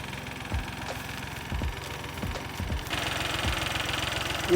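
A tractor driving on autopilot in a grape vineyard chugs steadily, with irregular low knocks over its even idle and a slight rise in broadband noise toward the end, and no voices.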